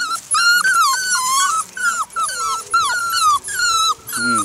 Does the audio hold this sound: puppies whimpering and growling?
yes